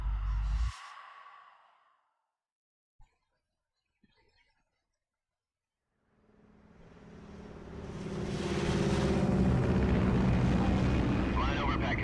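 A video game aircraft flies at altitude over Pakistan. After a short burst and near silence, a deep engine roar swells up and holds loud and steady.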